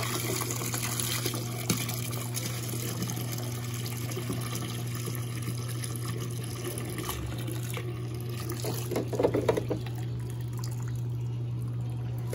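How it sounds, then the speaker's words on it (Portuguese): Water gushing steadily as an LG Prime Touch WD10WP6 washer-dryer drains after the first rinse of a bedding and towel load, a continuous rushing flow over a constant low machine hum. "Drenagem do primeiro enxágue e a água ainda está sendo suja."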